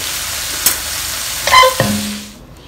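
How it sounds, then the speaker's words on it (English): Seafood for black pepper udon sizzles in a frying pan, a continuous close fry hiss broken by a few sharp scrapes and clinks of stirring, with no talking. "We'll remove this from heat now and start to fry the udon."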